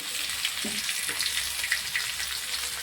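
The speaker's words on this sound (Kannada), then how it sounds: "ಎಣ್ಣೆ ಹಾಕೊಂಡು ಇದಕ್ಕೆ ಒಂದು ಸ್ವಲ್ಪ ಹುರಿಯೋಣ" Capsicum fries in oil in a pan, giving a steady, close crackling sizzle with a soft hiss throughout.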